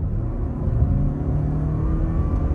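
A 2024 Toyota Grand Highlander Hybrid Max with CVT accelerating hard from about 40 mph, heard from inside the cabin as a steady, loud engine drone and low rumble that builds without a break.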